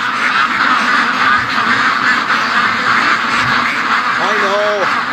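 Free range ducks quack in a pen during the morning rush, a brief clear call rising near the end over a steady noisy background with voices present.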